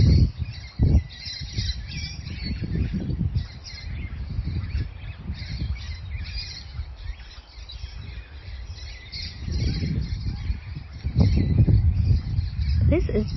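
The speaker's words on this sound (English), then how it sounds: "This is the loudest bird song that I've heard since I've been in Tasmania" Loud, busy birdsong on the Tasmanian coast fills the air with chirps and squawks, joined by low rumbling wind and intermittent talking in the background.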